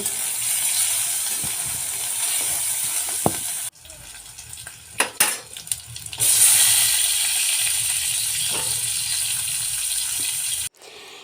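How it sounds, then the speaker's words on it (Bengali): Diced potatoes and fried fish tossed into spiced oil, sizzling loudly up close with a steady hiss, broken partway by clanks and stirring before the frying noise returns strong and then stops sharply. "মশলা থেকে তেল ছাড়তে শুরু করেছে এবার ডুমু ডুমু করে কেটে রাখা আলুগুলো আর ভাজা মাছগুলো দিয়ে কিছুটা কষিয়ে নেব"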